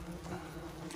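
Wasps buzzing steadily around a nest in a hedge, a dense continuous drone heard close and fairly loud throughout, with no voices.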